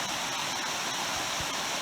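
Forney Creek rushes across a hiking trail crossing in the Smoky Mountains, a loud, steady wash of flowing water with no other sounds.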